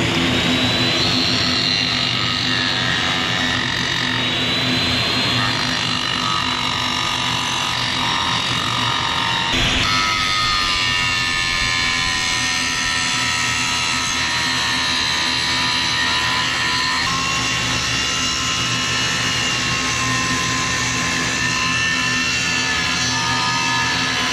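A concrete water trough being ground down with a power grinder, a steady loud whining drone with shifting high tones running without pause throughout.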